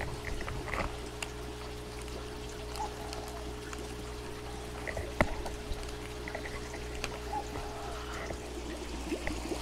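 Live bacteria liquid pours into an aquaponics swirl filter, a soft steady trickle and splash running throughout over a constant low pump hum and moving water.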